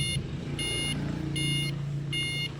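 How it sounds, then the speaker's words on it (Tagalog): An electric bike's buzzer sounds four steady high beeps in an even on-off rhythm over a constant low hum, with no talk. "nag-buzzer na naman siya Lodi. Ano kaya yung buzzer na yon?"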